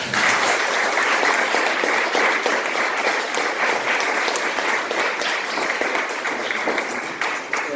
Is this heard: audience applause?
yes